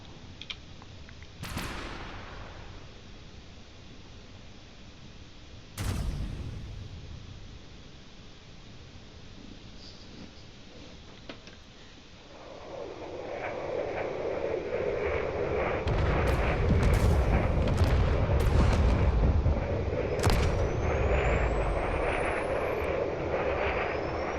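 Cannon shells fire in a video game drone battle, with sharp isolated booms early on, then a dense, loud roar of engines and rapid firing building through the second half.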